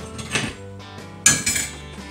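Dirty dishes and cutlery are shifted around a kitchen sink, giving a few clinks and clatters with a louder clatter partway through, close by and with no talking.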